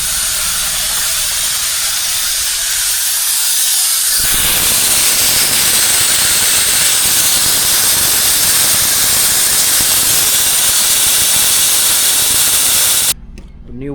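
Loud, steady air hiss from a Scania truck after the handbrake is applied and a button pressed, bursting in abruptly after a quieter start and continuing strongly before cutting off near the end.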